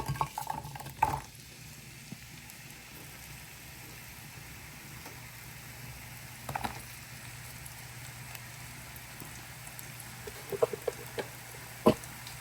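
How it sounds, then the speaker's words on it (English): Onions fry in oil in a pot, a soft, steady sizzle with occasional clinks and scrapes of stirring, fairly quiet throughout. "oil to the pot. And we are going to add in our onions."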